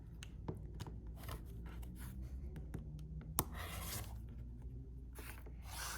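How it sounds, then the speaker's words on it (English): A fabric quilt block for half square triangles trimmed along a ruler, faint close crunching and scraping cuts in short bursts with small taps in between, quiet throughout. "Then I'm going to trim two sides."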